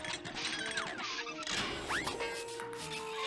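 A ping pong ball washing machine in the Windows 3.1 game Captain Kangaroo - Life's First Lessons gives off steady mechanical noise with short whooshing, squeaky sweeps and rattles as it smashes the balls, all continuous and fairly loud.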